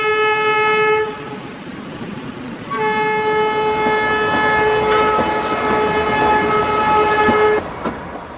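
A train on the Kalka Shimla Railway sounds a long sustained horn, breaks off briefly, then blasts again for several seconds over the rumble of the running train; loud and close.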